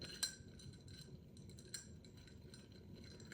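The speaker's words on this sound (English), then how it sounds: "place the spoon into a glass with ice and water and begin rotating" A metal bar spoon turns through ice and water in a glass, giving faint, soft clinks and tinkles, with two brighter taps among quiet swirling.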